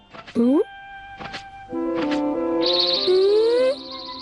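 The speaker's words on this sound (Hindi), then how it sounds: "अब तो चिड़ियों का चहचहाना भी अच्छी तरह सुनाई दे रहा है।" Clear bird chirps and whistling calls in an animated cartoon, some rising and sliding, ring out over a quiet background with a few soft thumps.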